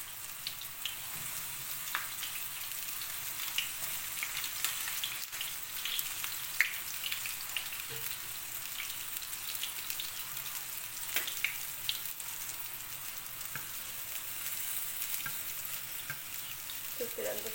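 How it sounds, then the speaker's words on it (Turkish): Köfte meatballs fry in hot, lightly salted oil with a steady, dense sizzle and crackle that runs unbroken throughout, with occasional sharper pops. "Köftelerim de kızarıyor."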